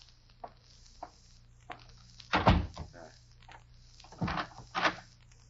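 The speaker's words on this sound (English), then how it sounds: "I will close the door." A door being shut and locked in an old-time radio drama: a series of wooden thunks and knocks, with one heavier slam-like impact in the middle and more clunks toward the end, close and fairly loud.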